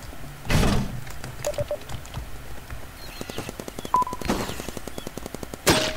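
A P90 firing in Roblox Big Paintball, rapid bursts of sharp, evenly spaced shots with short pauses between strings, near and moderately loud, plus a few louder thumps.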